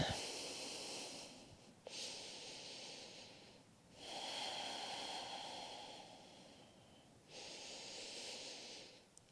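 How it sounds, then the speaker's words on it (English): Slow, deep breaths during a yoga stretch, three long airy exhalations with quiet pauses between them, close and soft, with no talking. "Deep, steady breaths."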